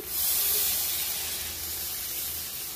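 Spice-paste water being poured into a hot pan of egg posto, setting off a loud, close, steady hiss that fades slowly over a few seconds, with no talking.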